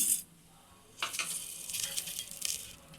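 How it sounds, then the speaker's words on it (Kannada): Oil sizzles and crackles sharply as mustard seeds pop in a hot pan, a bright spattering hiss starting abruptly and continuing close up. "ಸಾಸಿವೆ ಹಾಕ್ತಾಯಿದ್ದೀನಿ"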